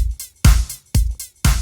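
Closed hi-hat programmed in Cubase 12 on every second 16th note, mixed with a deep kick; crisp ticks and thumps repeat in a quick, even electronic beat, close and clean.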